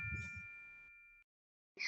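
A bright notification bell dings once with a clear ringing tone that sustains and fades over about a second, followed by silence and then a brief noisy burst.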